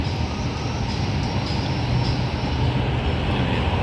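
A steady, loud rumble of a passing MRT metro train in Cubao, Manila fills the air, a continuous roar of wheels and motor with no pauses.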